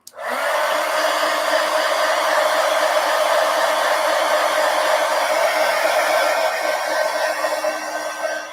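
A hair dryer blows steadily to dry paint on an artwork, a loud, close, continuous whooshing whine that starts abruptly and holds for several seconds with no speech.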